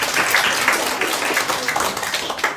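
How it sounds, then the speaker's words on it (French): A municipal council meeting room fills with a short burst of applause, a few people clapping briskly in a close, uneven patter. "Ça s'applaudit"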